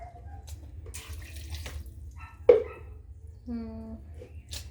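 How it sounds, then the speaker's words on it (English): Water from a tap or container pours into a cooking pot while githeri is being prepared, a brief splashing burst followed by a fuller, rising fill tone over a steady low background hum. "Here goes our water."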